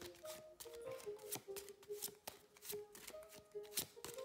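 A deck of playing cards is shuffled repeatedly during a magic card trick, producing close, crisp riffling and slapping bursts in quick irregular rhythm with no talking.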